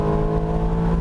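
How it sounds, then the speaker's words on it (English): A race car engine holds a steady, strained high-rev drone pinned against the rev limiter, loud and close from on board, for about a second. "Hit the rev limiter."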